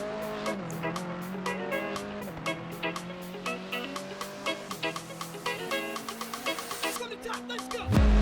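A BMW E90 touring car from Project CARS 2 races around Knockhill, its engine note climbing through gears with sharp shift drops and repeated clicks, steady and close, ending in a brief burst of noise.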